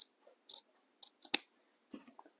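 Scissors snip through folded fabric for a DIY gnome, a few short quiet cuts spaced apart in near silence, with one sharper crisp snip.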